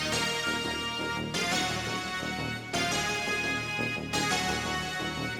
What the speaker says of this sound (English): the melody as well as the ARP that is not being halftime sounds like this